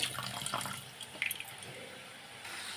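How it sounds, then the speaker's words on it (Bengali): Raw chicken rinsed under a running kitchen tap, with water splashing and dripping steadily into the sink, close and alone for a few seconds. "তো ভালো করে ধুয়ে নেব চিকেনটা"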